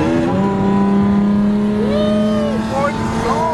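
An automatic V6 Ford Mustang revs hard and races alongside, its engine droning loud and steady with rising pitch sweeps, heard from a nearby car.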